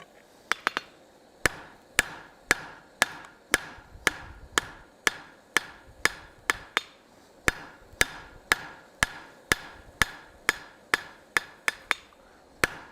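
A blacksmith hammers hot steel on an anvil while forging a spiral, with a steady run of about two dozen sharp, ringing metallic strikes spaced roughly half a second apart, loud and close, with no talking.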